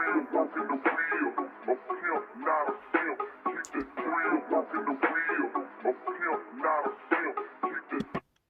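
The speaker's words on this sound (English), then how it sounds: "this Memphis vocal loop" Memphis vocal loop sample from a beat breakdown, a thin, lo-fi, band-limited voice chopped into a fast repeating rhythmic chant, steady and continuous before cutting off abruptly.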